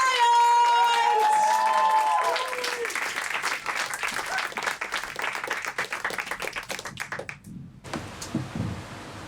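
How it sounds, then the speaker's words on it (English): A room full of people bursts into applause and cheering with whoops at a Sydney WorldPride event, dense clapping building from the start and trailing off near the end; a voice speaks over the opening. "I want you to start bringing the applause up from the back of the room."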